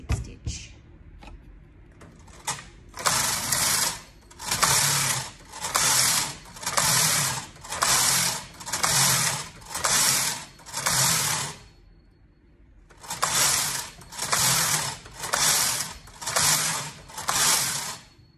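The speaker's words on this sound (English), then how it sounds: "And we'll now do the slip stitch." Brother KH860 knitting machine knitting slip stitch: a carriage swept back and forth in repeated rhythmic rattling passes with clicking needles, close and loud, with a pause before the passes resume.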